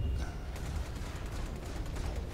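Ship guns fire in rapid, repeated bursts during a space battle in the video game Star Citizen, a dense rattling volley over low rumble, with no talking.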